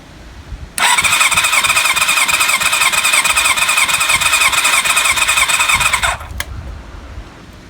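Kawasaki ZL600 Eliminator motorcycle engine cranking on the starter with the throttle held fully open for a compression test, a loud, steady whirring drone lasting about five seconds before cutting off abruptly.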